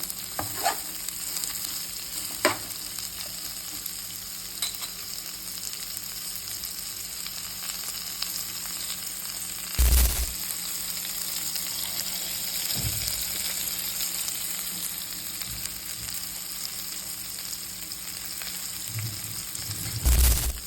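Dried anchovies fry in hot oil in a pan, giving a constant crackling sizzle broken by a few sharp scrapes and knocks of the spoon as they are stirred.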